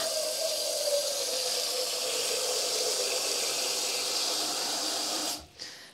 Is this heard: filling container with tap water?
yes